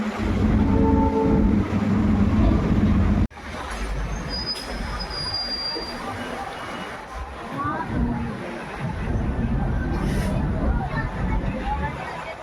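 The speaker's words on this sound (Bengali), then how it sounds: "এটা হচ্ছে হাওড়া স্টেশন, ওই সাইডে বন্দে ভারত, এখানে কিন্তু বন্দে ভারত দাঁড়িয়ে আছে" Howrah railway station platform with trains standing nearby: a dense, continuous rumble of station noise and crowd babble, with a brief high metallic squeal, while a person talks close over it.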